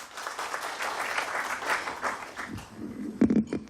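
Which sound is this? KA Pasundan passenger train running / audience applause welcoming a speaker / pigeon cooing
audience applause welcoming a speaker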